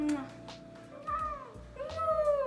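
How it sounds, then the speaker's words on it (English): Bengal cats meow indoors, several drawn-out, close cries spread across a few seconds with quiet gaps between them. "They're Bengal cats"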